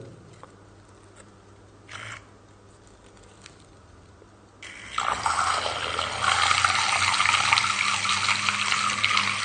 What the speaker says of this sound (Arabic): خلينا نعمل بقى تجربة وأوريكم هو بيقلب المية إزاي